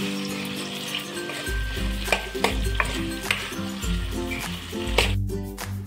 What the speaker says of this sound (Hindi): देखिए इस तरह से हम धीमी आंच में भूनेंगे